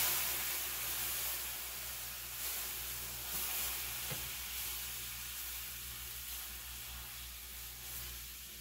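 Milk is whisked into a flour roux in a pan, a soft continuous sizzle and hiss with faint scraping, quiet and steady throughout.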